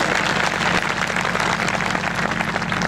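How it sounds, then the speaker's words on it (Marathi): Audience applause at a one-day kirtan gathering, celebrating a birthday, dense steady clapping from many hands throughout, with a low hum beneath. "जरा टाळ्या जोरात वाजाव्यात"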